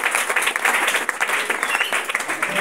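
A church congregation applauds Jesus during a French-language worship service, a dense, steady wash of many hands clapping together at close range, sustained evenly throughout without pause.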